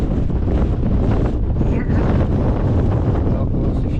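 Strong wind roars continuously across the microphone during an e-bike mountain descent from Anhaux toward Munhoa, a loud, steady buffeting rush with a faint voice beneath.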